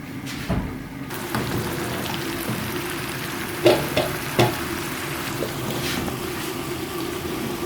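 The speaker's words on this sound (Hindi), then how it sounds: "इसमें तो ये मैं साग को तड़का लगाऊंगी" Oil sizzles in a pan while tempering saag, a steady, close frying hiss with a few sharp clatters of utensils partway through.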